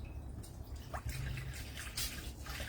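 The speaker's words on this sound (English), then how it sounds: "So we'll add in our water" Water is poured into a land crab curry cooking over a wood fire, giving a short, soft trickle and a few quiet drips close by.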